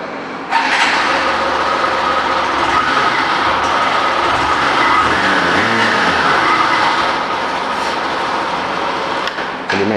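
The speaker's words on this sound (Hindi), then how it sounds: "चलिए मैं आपको एक बार एग्जॉस्ट नोट सुना देता हूँ गाड़ी का" A 2023 Hero Super Splendor Xtec motorcycle starts and keeps running, its exhaust giving a steady, loud, even drone that holds for the whole clip after a brief quiet start, heard close with no speech.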